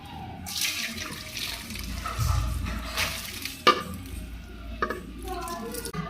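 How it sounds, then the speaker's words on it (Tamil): Water pours and splashes as it drains off boiled egg noodles, with a few clinks and knocks of a pot or strainer nearby. "இப்போ தண்ணி வடிச்சிக்கலாம்."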